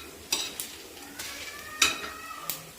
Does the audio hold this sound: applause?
no